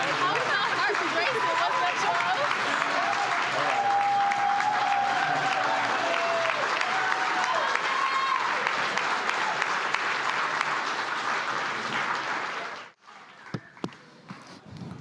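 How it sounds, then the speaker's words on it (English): Loud, sustained applause from the audience at a democracy summit, dense clapping with voices and cheers mixed in, running for about thirteen seconds before cutting off abruptly into a few scattered claps and quiet. "Let's clap it up again for our youth."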